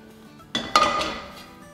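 A few bright clinks of metal utensils against a pan or dish as freshly made besan barfi is dished out, two quick knocks close by, then a fading ring, with no talking.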